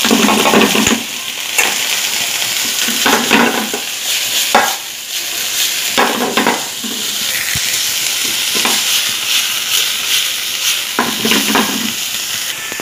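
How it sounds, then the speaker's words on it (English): Cauliflower and mushroom fry in a pan with a steady, loud sizzle, and a utensil stirs and scrapes through them at intervals. "then add the cauliflower and mushroom"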